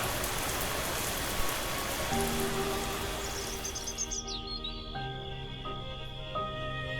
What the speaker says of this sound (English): the heavy rains in the north can cause flooding.